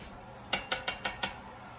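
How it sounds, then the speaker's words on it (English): Prickly pear jalapeno jelly being stirred in a pot, with five sharp, evenly spaced metallic clinks of the utensil striking the pot, close and clear, with no talking. "I'm going to keep stirring so it doesn't burn on the bottom."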